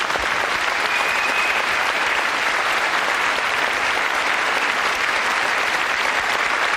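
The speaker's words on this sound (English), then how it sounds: "give them a round of applause" A studio audience on a live evening TV show claps loudly in sustained applause, steady and dense for several seconds, with no pauses.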